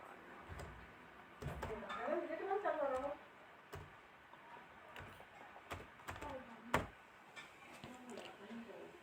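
Clicky computer keyboard typing a PAN card number into a tax information form, a run of light taps and sharp key strikes scattered through the clip while someone talks over them.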